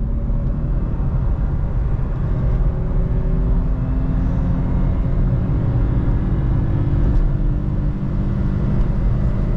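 VW Up accelerating on cruise control: a steady, loud low engine and road rumble from inside the cabin, even and unbroken throughout, with no voices.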